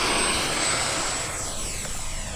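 FMS Trojan 1400mm radio-controlled model airplane flying on its maiden flight at a model airfield, its motor making a steady whine that fades slightly as it passes.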